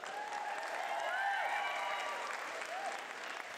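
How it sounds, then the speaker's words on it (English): An audience at a lip sync show applauds the performers who opened the night, steady, fairly faint clapping with whistles or cheers sliding above it. "Give them a round of applause for that"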